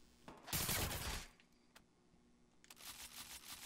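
Gunfire in the video game Watch Dogs 2: a quiet, dense burst of rapid shots followed by a few sharp clicks and another softer flurry, distant and low in level.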